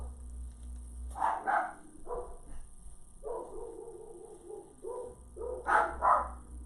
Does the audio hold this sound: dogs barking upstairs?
yes